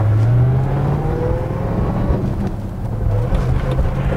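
A 1970 Dodge Charger's engine pulls steadily through the gears, a loud, continuous close-up drone with rising and falling pitch as it accelerates and shifts, with no talking.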